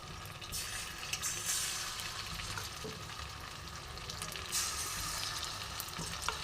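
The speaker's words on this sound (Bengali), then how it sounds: "এবার আমি একটা একটা করে চিকেন তুলে আমি তেলে ছেড়ে দেবো এবং ভেজে নেব ভালো করে।" Marinated chicken pieces frying in hot white oil in a kadai, a steady loud sizzle and crackle running throughout with small bursts of spitting, heard alone with no voices.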